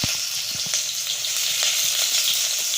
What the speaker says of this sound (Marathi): त्याची फोडणी देऊया आपण.